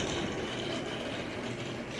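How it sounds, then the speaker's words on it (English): A small 009 narrow-gauge model shunting engine trundling along a model railway layout, giving off a soft, steady mechanical whir and rattle that stays even and fairly quiet throughout. "you can see that this does trundle along as you would expect to find a little shunting engine"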